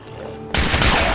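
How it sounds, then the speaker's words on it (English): A cannon fires in Fallout 4, a sudden loud blast that cuts in halfway and sustains as a dense, booming roar with crackling gunfire-like bursts, following a quieter stretch of game ambience. "Is that a cannon? It is a cannon."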